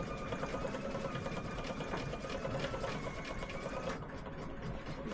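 A sewing machine steadily stitches a tea towel in a continuous, even mechanical whir with rapid needle chatter, close up and without pause, and no talking.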